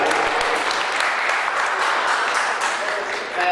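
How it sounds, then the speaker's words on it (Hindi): An audience at an Indian award ceremony claps steadily and loudly in a sustained, even burst of applause welcoming a guest onto the stage. "जोरदार ताली से स्वागत करें।"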